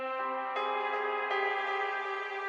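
Synth melody processed with delay, frequency tuning and heavy reverb in FL Studio, for a song remake; sustained bright harmonic tones with two note changes, steady and washy throughout, no talking.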